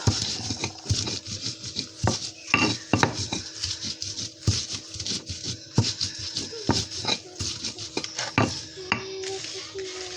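Stone mortar and pestle (ulekan) grinding ingredients in a home kitchen, a steady run of close scraping and tapping strokes with irregular knocks, continuing without talk.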